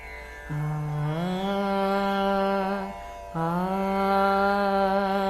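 A sustained hummed drone imitating a tanpura, held steady in two long phrases with a short break between, rich in overtones and with no instruments.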